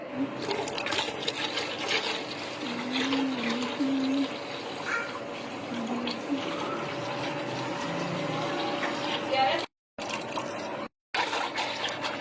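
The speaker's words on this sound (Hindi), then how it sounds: "अब इसके अंदर हम 3 से 4 लीटर पानी डालेंगे।" Three to four litres of water pour steadily into a cooking pot while making kadhi pakora, a continuous rushing splash with a faint hum beneath, briefly cut off near the end.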